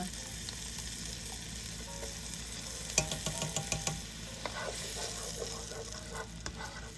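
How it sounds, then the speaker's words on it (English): Garlic sizzles steadily in melted butter over medium-low heat, with a run of close scraping and clinking stir strokes from a utensil in the pan breaking through the frying hiss. "Just stir it in till the butter is completely melted, and I do have it on medium-low heat"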